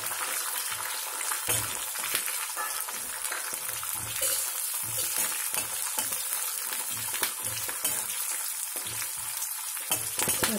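Green chillies sizzle steadily in hot oil with a tempering of mustard seeds and dal for mango pulihora, a continuous frying hiss with soft low stirring knocks repeating throughout, close and fairly quiet.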